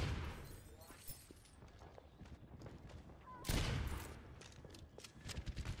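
Gunfire from an enemy soldier in a game of Overwatch, a busy layer of shots and impacts over game noise, with one loud burst partway through and talk from players around it.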